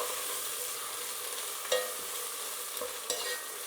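Two spoons of ginger garlic paste fry in a pan with a soft, even sizzle, and a couple of spoon clacks ring out as it is stirred.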